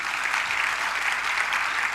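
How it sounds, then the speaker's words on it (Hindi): Audience at a temple Panchkalyanak ceremony clapping steadily, a dense, even patter of many hands that holds at the same moderate level throughout with no voices on top. "इतनी धीमी ताली बजाने से वो नहीं ठिठकेंगे"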